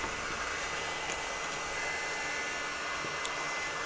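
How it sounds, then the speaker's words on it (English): A heat gun blows hot air onto craft foam to shape it, a steady broadband whooshing drone held at an even level throughout, close by and without talk. "Got my heat gun."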